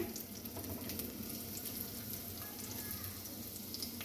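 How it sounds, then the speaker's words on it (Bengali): Chopped ginger and garlic sizzle steadily in hot oil in a home kitchen pan, a continuous close crackling hiss with no talk, while fish-head moong dal is being cooked. "আমার তেলটা গরম হয়ে গেছে। আদা কুচি আর রসুন কুচি আমি দিয়ে দিয়েছি।"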